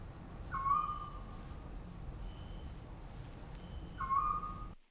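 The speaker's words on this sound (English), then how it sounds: "It just sounds like nighttime with birds." Two short, hooting bird calls rise over a soft, low rumble of night ambience, spaced a few seconds apart.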